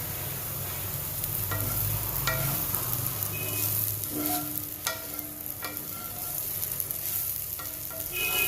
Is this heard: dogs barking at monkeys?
no